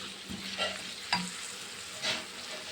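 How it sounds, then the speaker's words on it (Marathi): Onion frying in a pan after mustard seeds and garlic, a soft steady sizzle with three distinct scraping stirs spaced about a second apart, close and quiet, no voices. "मोहरी आणि लसण टाकल्यानंतर कांदाही कलसायला टाकायचा आहे"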